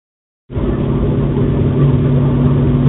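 A car driving through construction, with a steady, loud engine and road rumble that starts abruptly and holds even from inside the cabin.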